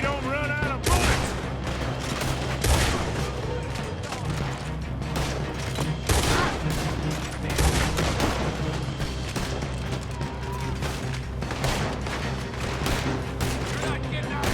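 Rapid gunfire and booming shots fill a Red Dead Redemption 2 video game shootout, dense bursts of overlapping rifle and pistol fire cracking repeatedly throughout, loud and close.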